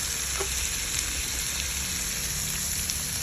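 Meat sautéing on low heat in a pan for menudo, a steady close sizzle and crackle with faint occasional pops, uninterrupted and without speech.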